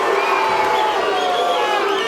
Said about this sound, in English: I don't know what the crowd is unhappy about.